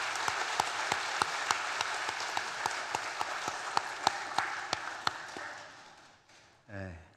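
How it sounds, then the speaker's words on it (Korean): Church congregation applauding at a children's worship service, steady clapping with sharp individual claps standing out, fading out near the end before a brief voice. "우리 박수 한번 쳐주시죠"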